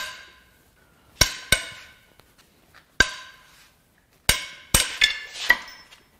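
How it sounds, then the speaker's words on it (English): Engine head bolts on a blown Mercury Marauder 4.6L DOHC V8 being cracked loose, sharp metallic bangs and clanks in irregular bursts, about six hits close by with quiet gaps between. "Now we can crack these head bolts loose."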